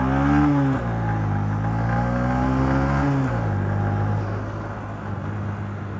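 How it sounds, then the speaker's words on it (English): A 2023 Honda CB125F with a modified airbox accelerating through the gears: a small single-cylinder engine hums loudly and close, its pitch climbing, dropping at each shift, then steadying into a cruising drone, with wind noise and no talk. "I really do think this bike is accelerating a lot harder than what it was"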